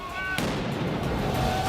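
Flare fireworks set off by protesters on a Paris street, giving a dense, continuous crackle of rapid pops and bursts, loud and close, with crowd noise underneath.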